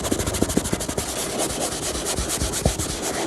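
A brush scrubbing orange oil paint onto canvas, a continuous dry rubbing scrape with rhythmic back-and-forth strokes, close and fairly loud with no voice.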